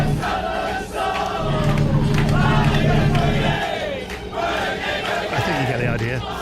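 Scotland's national football team and supporters chant a song together after qualifying for the European Championships, a loud, dense crowd singalong with sustained voices throughout.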